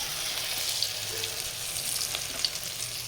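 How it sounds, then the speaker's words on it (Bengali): Chilli chicken pieces, over a kilo, fry in a pan of oil, giving a steady soft crackling sizzle that runs evenly throughout with no talking. "এটা চিলি চিকেন ভাজা হচ্ছে।"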